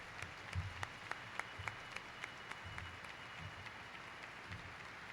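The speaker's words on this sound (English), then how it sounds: "Round of applause, man." Scattered applause rises from an audience at a gathering for a man retiring after 32 years, with sharp individual claps standing out over a soft, distant crowd murmur.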